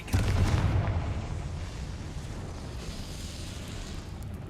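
A Confringo fire spell going off in the Hogwarts Legacy game, a single close, loud explosive boom at the start that decays into a long rumbling, crackling tail.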